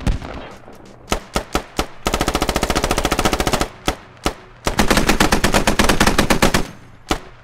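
Automatic rifle and machine-gun fire in the tactical shooter Squad: several separate sharp shots, then long sustained bursts of rapid fire, loud and close, with more single shots between the bursts.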